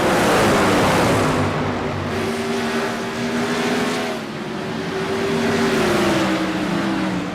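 Sprint car engines racing at Five Flags Speedway in iRacing, a loud continuous roar of several engines whose pitch rises and falls as the cars pass and lap.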